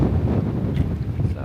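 Wind buffets a microphone on a mountain hiking trail, a loud low rumbling roar with gusty swells throughout the short stretch.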